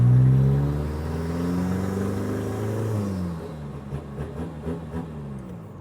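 A motorcycle engine being ridden, revving loudly at first with a steady harmonic drone, then settling into a rougher, choppier running note that pulses as the bike moves off.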